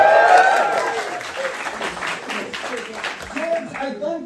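A live talk-show audience in Philadelphia breaks into applause, loud and full at the start, then thinning and tapering as scattered claps and murmurs trail off.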